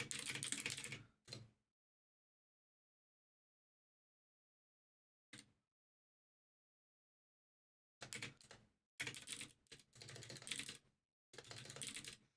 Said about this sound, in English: I'm typing a quick message